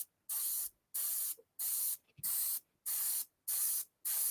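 A voice imitates an airbrush spraying paint with a series of about seven evenly spaced, short hissing bursts separated by brief pauses, close and clear, with no other talk.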